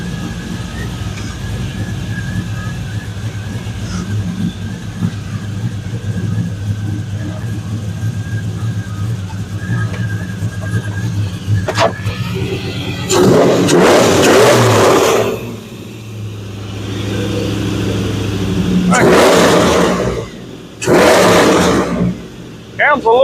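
Engine of a 2002 Chevrolet Silverado with new exhaust idling cold under a steady low rumble, then revved hard in several loud bursts near the end.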